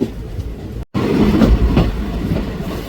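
A Ludhiana–Churu passenger local train rumbles steadily along the rails with a low, rhythmic clatter of wheels, close by, broken by a brief moment of near-silence.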